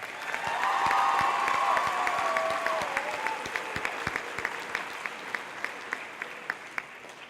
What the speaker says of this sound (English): Please give our student speakers one more round of applause.